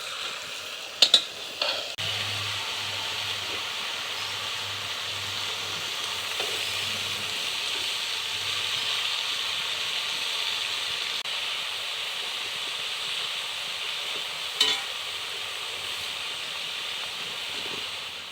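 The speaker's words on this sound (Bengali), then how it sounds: "পোস্ত মিশানো হচ্ছে" Poppy seeds stirred into cabbage frying in a pan give a steady, even sizzle and hiss that runs throughout, with a few sharp clinks of the utensil near the start and once more later, close by and with no talking.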